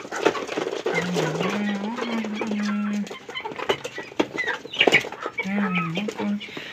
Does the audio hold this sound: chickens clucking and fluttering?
yes